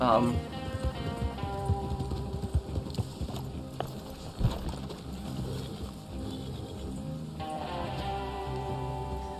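Horse hooves in the video game Red Dead Online, a rhythmic clip-clop of a trotting horse mixed with rain-like patter, heard under someone talking.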